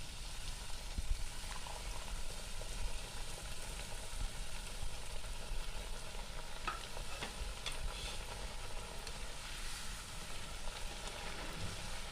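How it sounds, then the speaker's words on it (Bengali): Papri chaat crisps frying in hot oil, a steady, moderate bubbling sizzle that holds constant throughout at close range, with no voices. "পাপড়িটা আমার এই যে ভাজা হয়ে গেছে, কি সুন্দর খাস্তা মুচমুচে হয়েছে"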